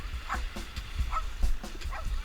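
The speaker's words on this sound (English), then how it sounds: "And also we got little dogs and animals going on" Small dogs bark at a lakeside campsite at Lake Mohave, Nevada, a few sharp yips at irregular intervals, moderately distant over steady wind and outdoor rumble.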